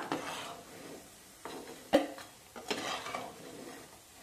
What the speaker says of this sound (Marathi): छान अशी आपली जी भजी आहे ही अशी हलवून घ्यायची